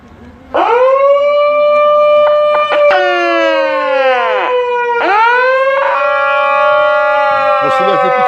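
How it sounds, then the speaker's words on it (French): Sirens wail at a street protest mobilisation in Bobigny, loud and close, rising and falling in long sweeping howls that restart several times and carry on without pause. "on va mettre nos sirènes."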